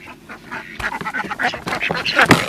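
Ducks let out of their house quack loudly and rapidly at close range, a busy overlapping burst of calls.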